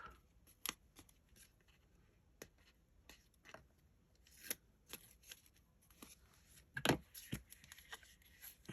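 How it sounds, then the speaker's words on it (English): Tape ripped off a roll during a paper craft project: a series of quiet, sharp tearing bursts spread across the span, with a louder rip near the end. "So we'll just rip out half of our tape off."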